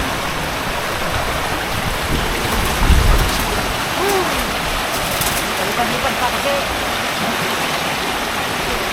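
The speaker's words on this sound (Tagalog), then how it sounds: "Grabe ang lakas ng tubig, ang bilis ng pasok, ang bilis ng dating." Floodwater rushing loudly and steadily during Typhoon Opong in Occidental Mindoro, a dense, close roar like a torrent with no pauses, and a voice talking faintly beneath the water.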